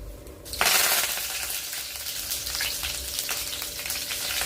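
Curry leaves and garlic drop into hot oil for a mango pickle, setting off a sudden loud sizzle that keeps crackling steadily close by.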